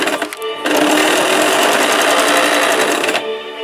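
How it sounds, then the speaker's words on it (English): A freshly threaded and oiled Westinghouse model ALB sewing machine stitches a light piece of fabric. After a few soft clicks it runs in one steady, close, rapid mechanical run of about two and a half seconds, then stops. "we're going to sew and see if I threaded it right"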